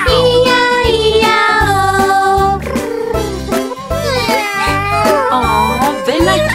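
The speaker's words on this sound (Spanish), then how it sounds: "Con un miau aquí, con un miau allá." Sung cat meows in a Spanish-language children's farm song, stretched and tuneful over a bouncy, steady musical backing that fills the whole stretch, with no separate animal sound.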